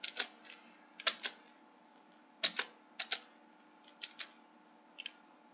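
Typing on a computer keyboard, crisp clustered key clicks in irregular bursts, close and moderately loud, with a faint steady hum underneath and no talking.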